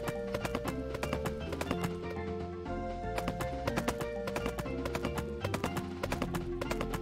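Horse hooves clip-clop steadily in Pumpkin Days, a video game, as the horse is ridden, with repeated hoofbeats running under game music with no talk.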